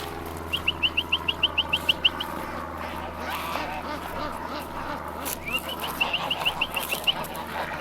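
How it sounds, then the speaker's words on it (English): Ducks on a farm quacking in two quick rhythmic bursts of repeated calls, one early and one near the end, mid-distance over steady outdoor background noise with a brief bump of other sound between. "Ah, the ducks. They're making their way over."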